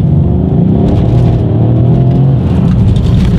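Mercedes-Benz AMG car accelerating hard, a loud continuous engine roar with a rising tone that stays close and steady throughout, with no talking.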